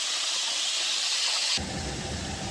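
Shrimp frying in oil hiss and sizzle steadily at close range, the crackle shifting and growing rougher partway through.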